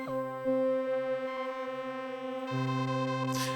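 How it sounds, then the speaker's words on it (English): Glitchy synth one-shot sample from Synth Experiments: a buzzy harmonic tone with stuttering, abruptly shifting pitch steps and a brief noisy burst near the end, heard alone. "So now I've got this advanced one shot from Synth Experiments. It sounds like this."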